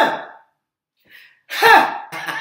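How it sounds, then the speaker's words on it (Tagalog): A person gives a single short cough up close, followed by a brief breathy exhale and a louder throaty burst after a pause. "Isang ubo lang yan."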